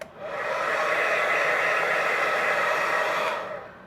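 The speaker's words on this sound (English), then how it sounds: "Another thing for the back side, I went ahead and used a hair dryer" A hair dryer blows steadily and loudly for about three seconds while smoothing the edges of a screen protector on the back of an iPad Mini, a constant whooshing hum that starts and stops abruptly.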